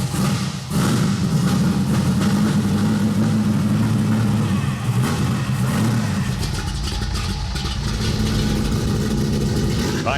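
A Monte Carlo's 454 big block V8 runs loud and close, a steady deep rumble with a few throttle swells and mechanical clatter over the top.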